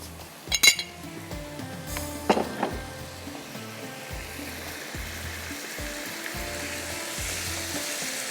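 Desi chicken karahi frying in oil in a pan, a steady close sizzle throughout, opening with a few bright metallic clinks of a utensil against the pan and a brief louder scrape.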